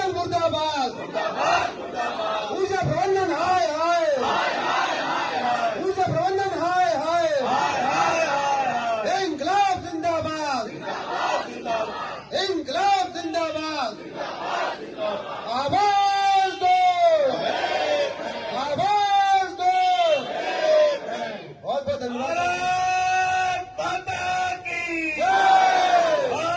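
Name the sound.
protesting employees shouting slogans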